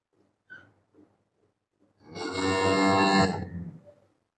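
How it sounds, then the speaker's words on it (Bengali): Cows at a dairy farm: a single long, loud bovine moo rises after a couple of faint snorts and shuffles, close by in an otherwise quiet barn. "চমৎকার কিছু গাভী আমরা দেখতে পাচ্ছি মেসার্স মক্কা আল আরাফাত ডেইরি ফার্মে"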